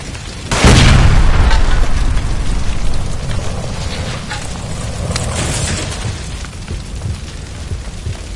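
Gas line explosion in the video game L.A. Noire: one loud, close boom bursts out, then a long rumbling roar and crackle that slowly fades.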